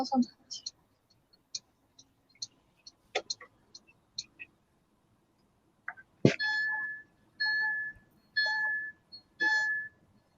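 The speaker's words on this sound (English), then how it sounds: "And I noticed a beeping sound." A series of evenly spaced electronic beeps inside a self-driving car, several short ones, with scattered clicks and brief voices in between.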